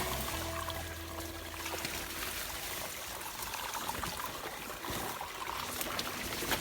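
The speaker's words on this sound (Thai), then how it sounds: "นี่เป็นลำธารหลังบ้านผมนะครับ แต่ก็ถือว่าอยู่ในป่าอยู่นะครับ" A forest stream flows behind a house, with a steady broadband rush and trickle of water running continuously at moderate level, no talk.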